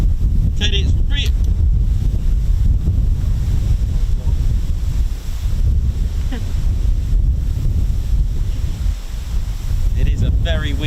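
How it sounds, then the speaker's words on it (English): Strong wind buffeting the microphone at an RAF Marham airfield, a loud continuous rumbling roar with brief faint tones over it. "It is a very windy."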